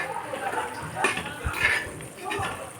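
A spoon scrapes and clinks against a pan while asafoetida and mustard are mixed into prawn pickle, a few short metallic taps and stirring rubs close by, with someone speaking over them.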